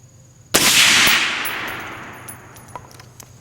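A single sharp, loud rifle shot from a 6.5 Creedmoor Night Stalker precision AR-10, its blast ringing off and decaying over a couple of seconds, followed by faint clinks.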